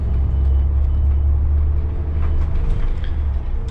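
A blue city bus drives through winter traffic, its engine giving a loud, close, continuous low rumble and drone with a little road noise on top.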